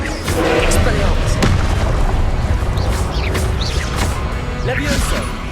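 Booming spell blasts from the Confringo curse in Hogwarts Legacy, several loud crashing bursts over dense game combat noise, with a voice calling out spells.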